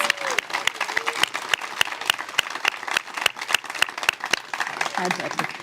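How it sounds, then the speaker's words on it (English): Sparse, sharp claps ring out from a small group at a search team pairing ceremony, with distinct individual hand claps standing out over a faint voice. "Let's give them one more big round of applause."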